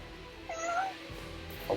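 A cat gives a single faint, drawn-out meow, thin and plaintive, against a quiet background with a soft rustle near the end.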